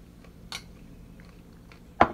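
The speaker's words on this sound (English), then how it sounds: "And you have to chew it up completely." Someone chews up a mouthful close to the microphone, giving two short crisp crunches about one and a half seconds apart over otherwise quiet background.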